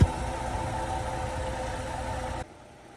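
A car engine idles after a JB Weld repair for an oil leak, a steady low rumbling hum held evenly for over two seconds before abruptly dropping away to quiet.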